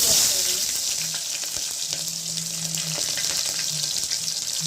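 Curry leaves and onion dropped into hot oil for a Mandya-style okra gravy give a loud, busy sizzle with crackling spatters and occasional stirring, heard up close with no one talking.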